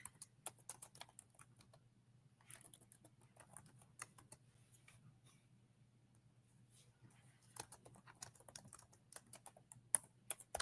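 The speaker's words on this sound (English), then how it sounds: "as I type in real time, the poll question" Rapid computer keyboard typing in real time, fairly close and quiet, with clustered bursts of clicks, a lull in the middle, and a steady low hum underneath.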